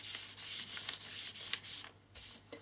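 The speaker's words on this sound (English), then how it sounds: "Use your fingers. Don't be afraid to get your fingers in to all this. And rubbing of this really helps because it solidifies it." Fingers rubbing paint onto a stenciled paper surface: a close, dry scrubbing sound in quick repeated strokes with brief pauses, heard alone.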